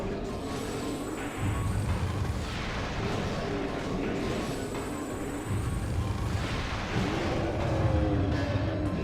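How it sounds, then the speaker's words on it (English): Super missiles fired in Metroid Prime during a rocky boss fight, heavy booming blasts with low rumbling impacts recurring every few seconds over a dense, continuous game soundscape. "So I can actually just fire super missiles at this thing"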